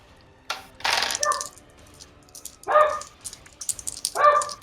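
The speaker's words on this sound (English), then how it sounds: "The dog keeps fucking barking." A dog barks indoors in several sharp separate bursts with pauses between, fairly close and loud, the yaps repeating over a quiet background.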